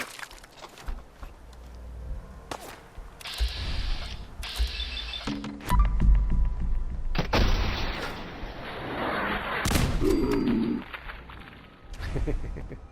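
Gunshots from the video game Fallout 4, a few sharp bursts mixed with mechanical clanks and rumbling effects, moderately loud, with a player's voice heard at times.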